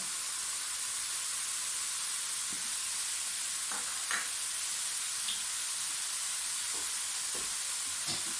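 Steady sizzling hiss of spices such as cumin and carom seeds frying in hot oil for a tempering, with a few soft clinks and stirs scattered through, no talking.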